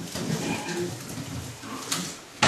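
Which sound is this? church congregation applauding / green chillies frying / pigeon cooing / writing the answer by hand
pigeon cooing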